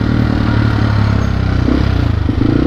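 A motorcycle with a stock ECU due for a remap rides along the road, its engine droning steadily up close with uneven rises and dips in pitch.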